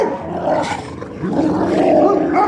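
Several energetic dogs play together close by, with growls, huffs and rough play noises rising and falling continuously, no talking over them.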